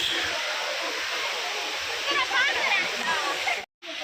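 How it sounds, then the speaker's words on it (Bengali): A jungle waterfall at Kanching Templer's Park in Selangor, Malaysia, sits below a flight of stairs and makes a steady, broad rushing roar that fills the whole moment, with a brief dropout near the end. "নিচে ঝর্ণা, দারুণ পরিবেশ"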